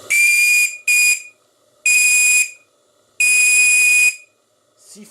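A JMC steam whistle on the live-steam boiler of the model tug Abeille 13 sounds four loud, shrill blasts close by. The blasts vary in length, separated by short silences, with a faint hiss between them.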